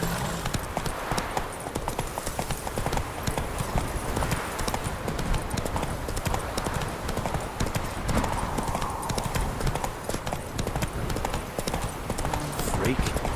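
Horse hooves clip-clop steadily throughout a ride in the video game The Witcher 3, a continuous rhythmic trotting mixed with game ambience and occasional voices.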